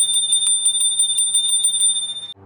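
An electric scooter's handlebar bell rings in a rapid, steady series of bright metallic dings, loud and close, with no talk over it, before stopping abruptly.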